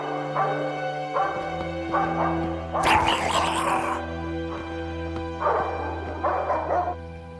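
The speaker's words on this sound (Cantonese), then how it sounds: "啲狗吠得咁緊要" Several dogs bark in repeated bursts at moderate volume, separated by short pauses, over a steady low hum.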